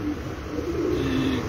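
A pigeon coos nearby, a short low throaty warble over steady background noise, brief and moderately loud.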